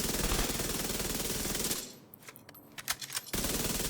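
Rapid weapon fire from a Destiny 2 exotic gun with a reduced magazine, a dense burst of loud shots that cuts off into a brief reload of clicks and mechanical clacks, then firing resumes.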